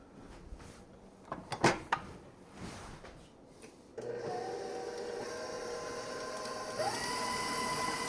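Electric stand mixer fitted with a pouring guard creaming confectioners' sugar for vanilla buttercream; a few clunks and knocks give way to a steady whirring motor hum that rises slightly in pitch near the end.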